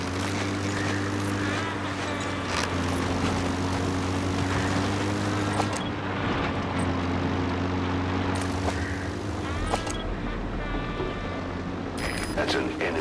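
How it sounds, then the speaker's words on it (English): An enemy gunship aircraft in Metal Gear Solid V: The Phantom Pain drones with a steady engine and rotor hum throughout, under game dialogue and effects. "That's an enemy gunship."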